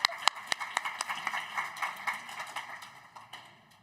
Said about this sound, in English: Can we have another round of applause for Robb?